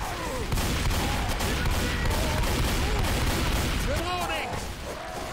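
Rapid gunfire rattles continuously in Left 4 Dead 2, a dense barrage of shots that runs the whole time while someone talks over it.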